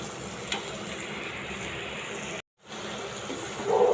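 Spice paste sizzles and crackles steadily in a hot pan as it is stir-fried, with a brief gap in the middle and a faint scrape of stirring.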